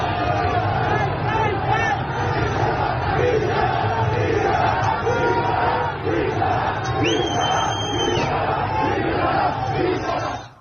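A large protesting crowd in Iran clashing with security forces roars and shouts continuously, a dense, loud wall of voices with chanting and yelling throughout, plus a brief high whistle-like tone partway through.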